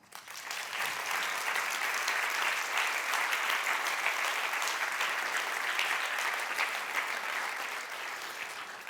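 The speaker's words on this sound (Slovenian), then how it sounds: "upravičeno jim lahko zaploskamo" Sustained applause from an audience at an award ceremony for entrepreneurial ideas, dense steady clapping that fills the room for the whole stretch without fading.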